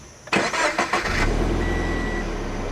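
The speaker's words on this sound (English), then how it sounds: "push the button to start the engine" A 2015 Subaru BRZ's starter whirs in several quick pulses before its boxer engine catches and settles into a steady, low, throaty idle, close by.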